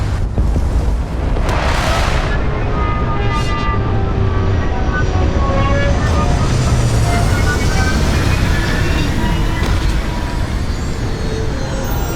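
A spaceship landing in the video game Starfield, a loud steady roar of engine thrust and rushing air with rising and falling whine tones, lasting throughout with faint voice bits in the background.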